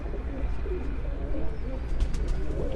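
Pigeons coo on a rooftop, a low continuous murmur of several birds nearby, with faint chirps over it.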